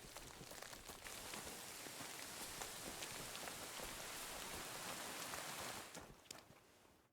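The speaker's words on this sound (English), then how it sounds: "It's still raining through the rock" Steady rain in the medieval video game Kingdom Come Deliverance II, a dense, even hiss of drops falling on surfaces that continues unbroken and then thins out toward the end.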